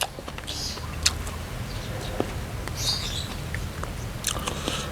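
Close crunchy chewing and biting while eating an Isan meal of raw beef with bitter dipping sauce and neem leaves, several crisp bites in a row with a little talk in between.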